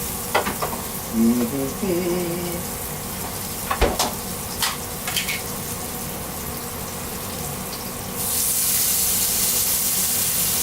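Butter sizzling and frying in a hot pan while pan-searing chicken, with a steady hiss under a few stirring scrapes, then a louder burst of sizzle near the end.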